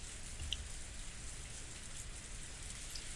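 Steady rainfall from the video game Umineko falling over a rose garden, a soft, continuous hiss of drops with a low rumbling undertone, faint and unbroken throughout with no voices.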